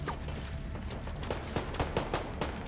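Gunfire in Tom Clancy's The Division 2, a series of sharp shots cracking out at an uneven pace over a steady background din, growing denser and more regular toward the end.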